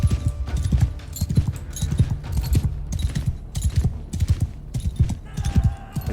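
Hooves clip-clop at a brisk, even rhythm in the medieval game Mount and Blade II Bannerlord, a horse moving close and steady, with a brief faint whinny partway through.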